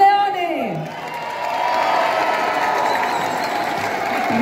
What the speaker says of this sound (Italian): un bel applauso per il leone!